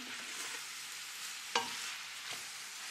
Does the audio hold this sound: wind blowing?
no